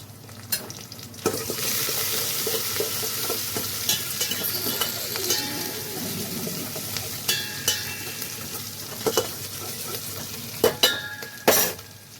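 Onions for an eggplant and drumstick sambar sizzle steadily in a pan while a utensil stirs and scrapes them, with occasional louder knocks toward the end, close and continuous.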